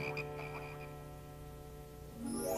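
Cartoon toads croak in a plague scene, a few quick croaks at the start followed by a sustained musical drone and a rising sweep at the end.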